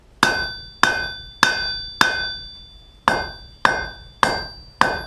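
A hammer strikes 1-inch by 1/8-inch flat steel bar being forged into a trammel hook, eight loud, ringing metallic blows spaced about half a second to a second apart, each decaying quickly, with no talking.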